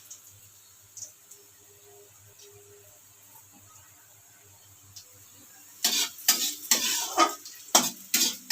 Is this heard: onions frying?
yes